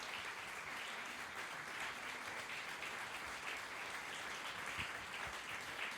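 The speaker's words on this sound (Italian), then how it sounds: "questo è un applauso affettuoso per tutti i coristi" Steady applause for a choir and its director after a concert, an even wash of many hands clapping, heard at a distance and fairly faint throughout.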